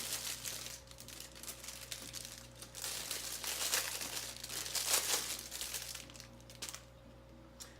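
An aquarium air stone is pulled from its plastic package, giving close, quiet crinkling and rustling of plastic in irregular bursts over a low steady hum.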